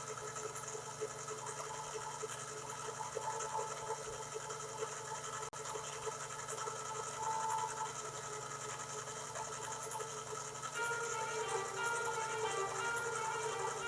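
A thick divinity candy mixture being beaten by an electric mixer in a steady, continuous motor whir that stays even throughout, with no talking.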